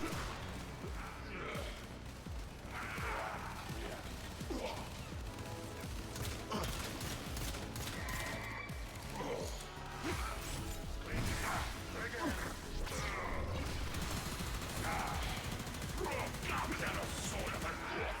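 Dense, rapid gunfire rattles through a Warframe game session featuring the Nyx character, with bursts of shots and mechanical clatter layered over continuous game sounds for about eighteen seconds, fairly quiet overall.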